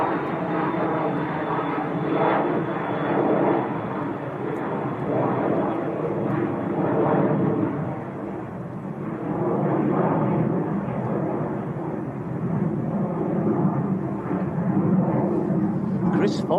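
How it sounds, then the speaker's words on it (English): Embraer Phenom business jet operated by NetJets departing Manchester Airport, a steady broad engine roar holding for the whole stretch with slow swells in level, while people talk over it nearby. "That is a Phenom going out to Salzburg."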